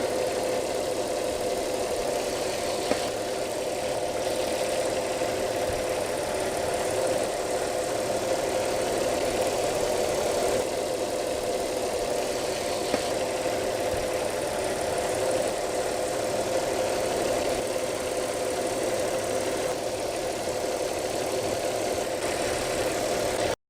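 A warmed-up car engine idles steadily at close range, a constant even hum with a faint rhythmic knock running underneath throughout.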